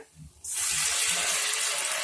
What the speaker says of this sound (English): Now add 1 cup warm water